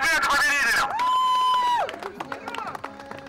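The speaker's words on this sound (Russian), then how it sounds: "Аплодисменты победителям!" Crowd at an amateur cart race in Zadonsk cheering and whooping for the winners, loud and close, with a sustained tone and a voice over the noise before it thins to scattered claps and murmurs.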